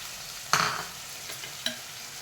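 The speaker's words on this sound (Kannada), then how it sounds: "ಗ್ಯಾಸ್ ಸಣ್ಣದು ಮಾಡಿಕೊಳ್ಳಿ ಈಗ ಕಡೆದಿಟ್ಟುಕೊಂಡಿದ್ದೇವಲ್ಲ ತೆಂಗಿನಕಾಯಿ ಅದನ್ನು ಹಾಕಿ" A spoon stirs grated coconut into chickpea usili in a pan on low heat, making a quick scrape and a faint second scrape over a soft, steady frying sizzle.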